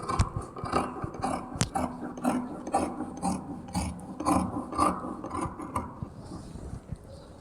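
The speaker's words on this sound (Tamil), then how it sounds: "இப்போ நம்ம ஷோல்டர் கிட்ட கட் பண்ணி எடுத்துருவோம்." Scissors cutting chudithar fabric at the shoulder: a series of dry, rasping snips and slides, close and fairly quiet, in an uneven rhythm with a few sharper clicks.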